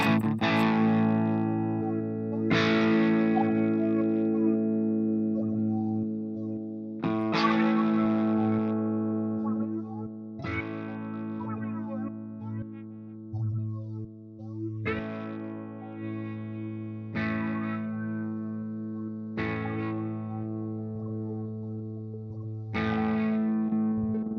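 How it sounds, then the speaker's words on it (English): Guitar played through an effects unit with a heavily wet slicer setting, with distorted, chorused chords chopped into rhythmic pulses, each new strum swelling and then stuttering away over a sustained, reverberant bed of tone. "I'm trying to get a real wet sound out of that slicer"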